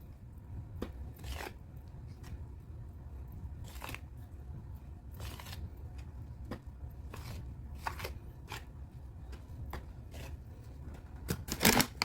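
A spoon working flour into biscuit dough in a bowl, producing irregular soft crunches and scraping strokes at close range, with a few sharper knocks toward the end and no talking.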